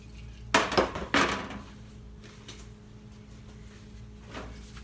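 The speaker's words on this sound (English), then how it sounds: "This is the pan I use. So we're gonna oil it up really well, so the cereal doesn't stick to the pan." A metal pan for churro cereal treats is picked up and set down, giving two sharp clanks near the start and a faint knock later, over a low steady hum.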